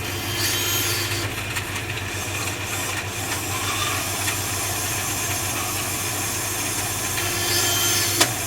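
A bandsaw runs with a steady motor hum while its blade slices through foam, giving a constant close whirring drone over several seconds.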